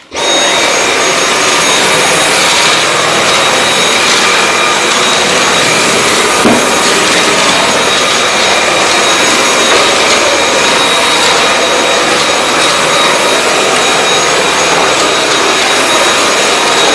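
A Dyson V8 Absolute cordless vacuum with its hard-floor attachment runs steadily on a hard floor, a continuous high-pitched whirring motor with faint scraping, close and loud throughout.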